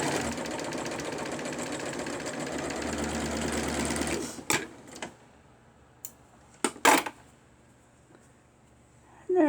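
A sewing machine runs steadily for about four seconds while stitching a doll dress, then stops, followed by a few sharp clicks and handling knocks.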